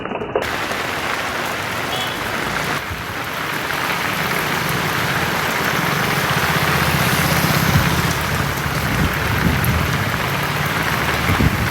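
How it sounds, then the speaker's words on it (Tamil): Heavy rain falls at night in Ramanathapuram, a loud, unbroken wash of downpour hiss that stays steady and close throughout, thickening slightly toward the end. "ராமநாதபுரத்தில் இரவில் வெளுத்து வாங்கிய கனமழை"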